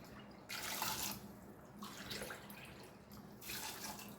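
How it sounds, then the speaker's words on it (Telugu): Water runs from a tap into a pot of chickpeas in steady bursts, with short pauses between the flows; the hiss is fairly quiet and close, with no talk. "వీటిలో మనం తగినన్ని వాటర్ వేసుకుందాము."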